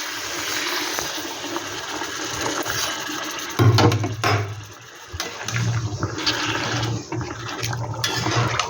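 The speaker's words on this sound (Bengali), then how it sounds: "এখানে আমি আগের দা জল গরম করে রেখেছি, সেই জলটা আমি দিয়ে দিচ্ছি।" Heated water being poured into a cooking pot: a steady splashing stream at first, then a fuller gurgling pour with short bursts and pauses, close and fairly loud.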